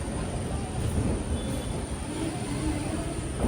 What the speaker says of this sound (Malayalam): ട്രെയിൻ ഇതാ കോഴിക്കോട് റെയിൽവേ സ്റ്റേഷനിലേക്ക് എത്തുകയാണ്